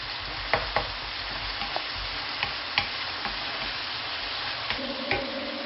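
Kidney bean curry base frying in a pan before spices go in, a steady close sizzle with occasional clicks and scrapes of stirring, no talking.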